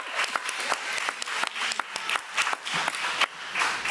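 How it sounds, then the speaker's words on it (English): An audience at a committee meeting claps for Ms. Green in a steady round of applause that stays fairly even for several seconds. "So let's give Ms. Green a round of applause."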